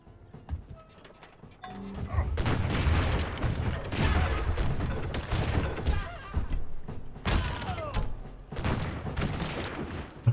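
Siege guns firing in a Civilization 4 battle, a sustained stretch of booming volleys and thuds mixed with clattering combat noise, fairly loud and continuous for several seconds.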